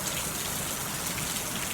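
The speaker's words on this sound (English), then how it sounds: "But here we are watching the rain." Steady rain falls as a dense, even hiss of drops hitting a surface. It is close and continuous, with no voices.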